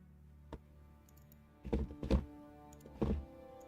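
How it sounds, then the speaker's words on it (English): Tachyon flak explosion effect from a space combat game: a faint lone thump followed by a quick cluster of muffled, booming blasts, then one more, heard alone over a low electronic hum. "like tachyon flak explosion"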